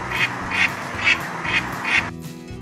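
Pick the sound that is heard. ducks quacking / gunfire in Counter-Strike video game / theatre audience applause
ducks quacking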